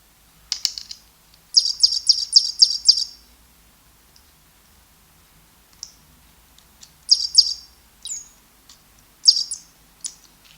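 An electronic chirping bird toy gives bursts of rapid, high tweets, a quick string of chirps followed by scattered shorter calls and pauses, close-up with no talking.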